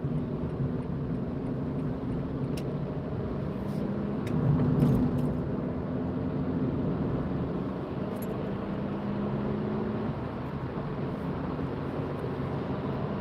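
A car cruising on the M61 motorway near Wigan gives a steady, close interior rumble of engine and road noise, swelling slightly midway and continuing evenly throughout.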